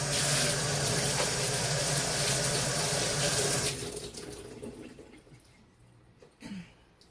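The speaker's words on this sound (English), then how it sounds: "Now let me rinse my hands." A kitchen tap runs in a loud, steady stream while hands are rinsed under it. It stops abruptly partway through, leaving quieter drips and faint handling sounds.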